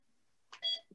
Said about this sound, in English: Now I got beeping going on in here too.